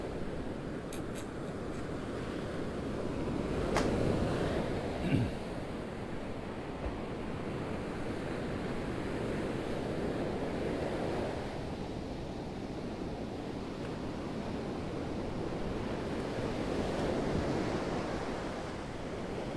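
Ocean surf on a tidal shore, a continuous broad wash of breaking waves with gentle swells in loudness, and a single brief clatter partway through.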